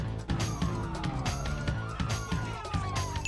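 Police sirens wail in GTA V, several rising and falling tones overlapping at a moderate distance amid game sounds, fairly quiet overall.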